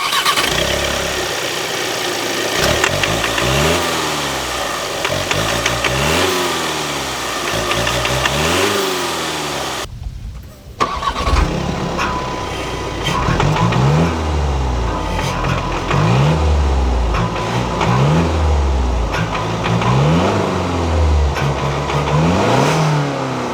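A 2022 Audi Q3 35 TDI's 2.0-litre inline four-cylinder direct-injection turbodiesel runs loud and close, revving up and down repeatedly in rising and falling sweeps, with a short break before it picks up again with further revving.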